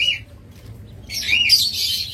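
King quail, a blue classic breeding pair kept for sale, giving a short high call and then a brighter run of chirps and squawks, near and fairly loud, with no talking.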